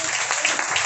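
A congregation clapping during a Sunday worship service, a steady wash of many hands close by and loud throughout.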